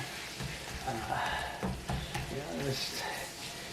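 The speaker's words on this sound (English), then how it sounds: "Okay, so now we're back to the hamburger cooking." Ground beef hamburger meat frying in a pan gives a steady close sizzle with soft crackles and occasional stirring scrapes, running under a quiet voice.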